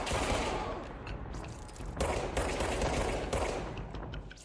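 Sustained bursts of rapid gunfire from the video game Control crackle in dense overlapping volleys, loud and continuous with short lulls between bursts.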